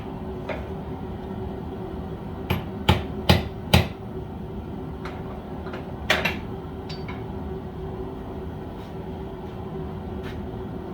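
A small forging hammer, made from an old rock hammer with the chisel end cut off, strikes metal while shaping a campfire blow pipe: a quick cluster of four sharp hits, then a couple more later, over steady background noise.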